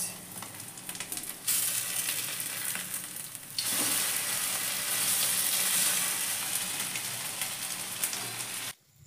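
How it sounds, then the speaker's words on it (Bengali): Pakoras fry in hot oil in a home pan and are turned over, giving a loud, continuous close-up sizzle that jumps in intensity as pieces are flipped and stirred. "বোন কি সুন্দর পকোড়াগুলো উল্টাতে দেখলে"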